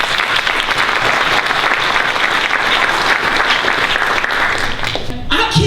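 Sustained audience applause for the jurors fills a room at a teach-in, dense and steady throughout before thinning slightly near the end.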